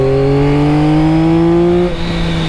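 A 2024 Yamaha XSR900 three-cylinder motorcycle engine pulls hard in third gear, its rising harmonic whine climbing steadily before easing off near the end, loud and close with wind noise.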